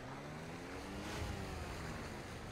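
Waves wash through a bay in the video game Go Vacation, a steady, broad rushing roar with wind-like hiss and a brief swell near the middle.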